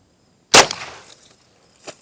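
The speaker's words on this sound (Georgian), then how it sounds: "და მოხდება გასროლა." A single loud gunshot from a KelTec SUB 2000 10mm carbine fired outdoors, a sharp crack that rings and decays over half a second, followed by a fainter second impact or echo.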